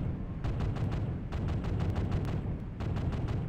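Rapid bursts of cannon fire from a BMP armored vehicle in the game Project Reality, firing high-explosive rounds as a series of sharp repeated shots over a dense, rumbling low roar.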